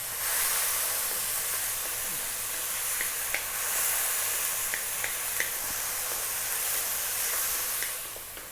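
Chopped tomatoes sauté in a hot pan for Filipino corned beef spaghetti, giving a steady close sizzle and hiss with a few small pops scattered throughout.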